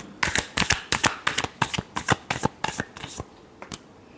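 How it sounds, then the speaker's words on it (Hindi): Tarot cards being shuffled in a quick series of crisp riffling bursts, about a dozen sharp flutters in a steady rhythm that thins out toward the end, close and clear with no talking. "last shuffle,"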